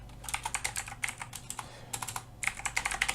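Rapid, clattering keystrokes on a computer keyboard come in quick bursts with brief pauses, close-miked over a low electrical hum, with no one speaking.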